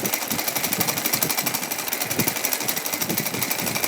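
A sewing machine stitches fabric strips together for a doll's outfit, running in a steady, rapid rhythmic whir close up, with no talk over it.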